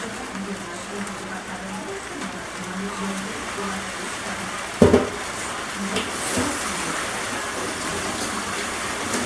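Water runs in a steady broadband hiss, like a shower, with a sharp knock midway and faint speech-like sounds mixed in.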